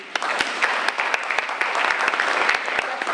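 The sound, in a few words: meeting audience applauding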